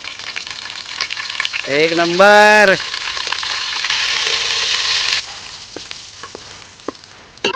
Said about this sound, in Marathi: मस्त फोडणी करून त्यात आता कांदा घातलाय आपण.